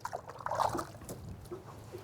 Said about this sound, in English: Just take it in the water and rinse them off.